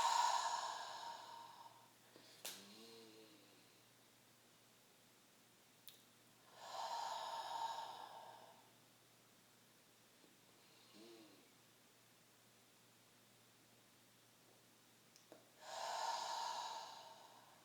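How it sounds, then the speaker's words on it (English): Slow, deliberate breaths during a guided meditation, drawn in through the nose and released through the mouth in long soft whooshes, repeating in a calm cycle several seconds apart, faint and close with no talking. "Inhaling through the nose. Exhale out your mouth."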